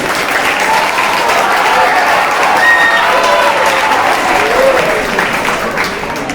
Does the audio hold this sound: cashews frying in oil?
no